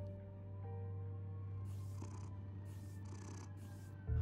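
Soft, continuous purring from a cat in Batman: The Telltale Series hums low and steady under faint game ambience, with a few hissy breathy bursts and no talk.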